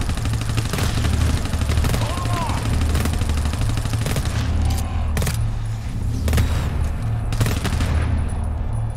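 Automated turret firing in the co-op shooter GTFO, sharp repeated shots cracking over a constant low droning background, with players talking under it.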